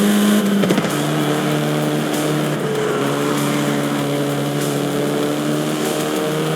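A Volkswagen Golf R racing in the video game Forza Horizon 5 gives a steady, loud engine drone with a gear-like pitch shift early on, continuous throughout.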